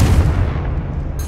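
A Confringo fire spell explodes in the Hogwarts Legacy video game, with a loud deep boom that rumbles and fades over about a second.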